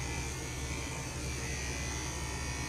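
Andis Pulse ZR2 five-speed detachable-blade clippers buzz steadily and loudly up close while grooming a Shih Tzu, a constant electric drone with no pauses.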